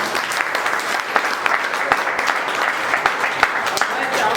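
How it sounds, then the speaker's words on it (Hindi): Loud applause from an audience at a team leaders' meeting, many hands clapping in a sustained, crisp burst with scattered sharper claps standing out. "पहला तो जो लेट आए एक बार उनके लिए जोरदार तालियां"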